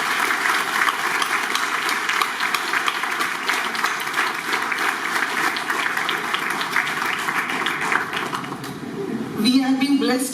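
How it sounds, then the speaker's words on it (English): Audience applause rises at a formal launch event honouring UNESCO and PNG, a continuous wash of clapping with voices mixed in and a brief louder clatter near the end. "So I think we all should clap for UNESCO and PNG"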